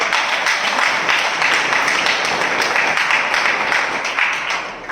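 A church congregation claps during a sermon, a loud, dense wash of hands that holds steady for several seconds before tapering off at the end.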